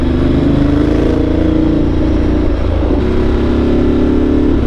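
Ducati motorcycle engine while riding, a loud, steady low rumble with a constant drone and slight shifts in pitch, heard up close with no talk.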